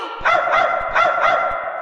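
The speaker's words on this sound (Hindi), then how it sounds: "जैसे मेरी बात खत्म हुई ये भौंकने लगा।" A cartoon dog barks repeatedly in a steady rhythm, four loud close barks spaced evenly apart with no other voices.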